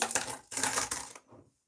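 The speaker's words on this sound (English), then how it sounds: "To stop a lot of the noise of coins" Coins drop and clatter in two quick bursts onto a mouse mat at close range, with a short fainter rattle after them and no voices.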